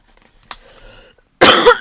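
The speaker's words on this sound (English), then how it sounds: "I've got such the cough." A single harsh cough bursts out loudly near the end, after a few quiet seconds of faint rustling and a brief earlier throat sound.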